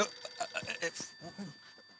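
A telephone rings in rapid repeated bursts, close and fairly loud, with faint background voices.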